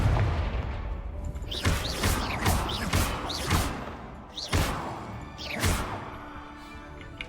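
Confringo spells cast in Hogwarts Legacy, a run of sharp explosive blasts and crackling bursts, several loud close impacts spaced about a second apart over a dense game background.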